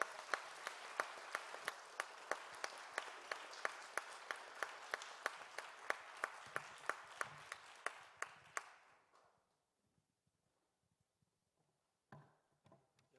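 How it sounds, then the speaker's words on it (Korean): A church congregation at a young adults' Sunday worship service claps steadily, a rhythmic round of applause that fades out after several seconds, followed by near silence and a faint sound at the end. "우리 선교사님 나오실 때 보내주신 하나님께 감사와 영광의 박수 올려보내드릴까요?"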